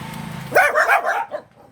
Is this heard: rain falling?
no